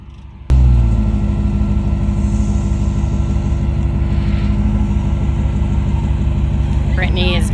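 A Jeep's engine and winch pulling another off-road vehicle up a rough trail, a steady loud droning hum that starts abruptly and runs unbroken, with a brief higher whine near the end.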